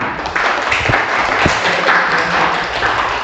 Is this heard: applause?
yes